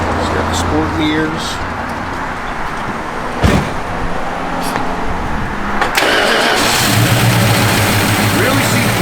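A 1972 Dodge Demon engine idles with a low steady rumble, then a sharp start-up thump and a louder, rougher running note, with someone talking over it.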